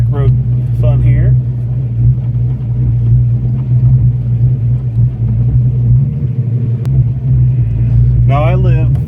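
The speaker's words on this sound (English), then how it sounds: "It's got a very deep, kind of a hissy sound, like a raspy sound, because it's not a chambered muffler." A 1987 Ford Mustang Fox body on a back road, with a non-chambered muffler: a loud, steady, deep raspy exhaust rumble from inside the car that runs throughout, with brief voices over it.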